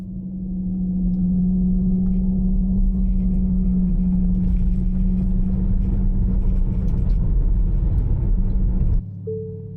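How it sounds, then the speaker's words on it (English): A Tesla accelerates with a fake exhaust sound device fitted, giving a steady, loud droning rumble with a sustained tonal hum that holds for several seconds before cutting off abruptly near the end. "we're gonna do an acceleration here."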